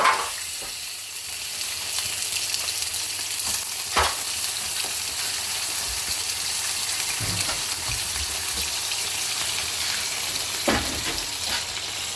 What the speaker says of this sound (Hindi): चिकन को 4 से 5 मिनट के लिए ऑयल में अच्छी तरह से भून लेंगे